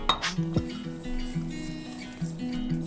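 Two large eggs cracked one at a time into a bowl of banana bread batter, giving a sharp clink of shell on the bowl edge, then a few soft knocks and light glassy taps against the bowl.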